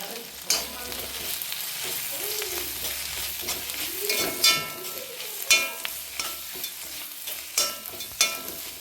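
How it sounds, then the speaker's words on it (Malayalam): Ground spices and pepper go into beef liver frying in a pan, with soft sizzling and scattered sharp clinks and scrapes of stirring, fairly quiet and close, with no talking. "ഇനി ഇതിലേക്ക് സ്പൈസസ് പൊടിച്ചത് ഇട്ട് കൊടുക്കാം."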